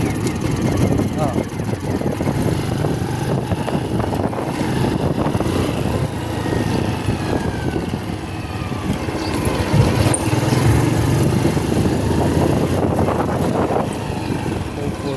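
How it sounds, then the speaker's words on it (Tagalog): A Honda Wave motorcycle engine with a fault that makes it misfire at high rpm runs up loud and close, its uneven, sputtering, cutting-out note continuing throughout, and someone talks over it. "narinig niyo naman yung andar niya na putol-putol"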